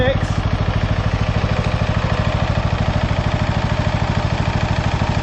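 A Bolens lawn tractor engine idles at a steady, even pulse, close and fairly loud, holding one unchanging rhythm throughout with no other sounds.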